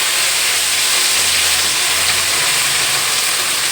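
Curry leaves, crushed ginger, fennel and garlic frying in hot oil, a steady dense sizzle and hiss that runs unbroken at even loudness throughout, with no talk.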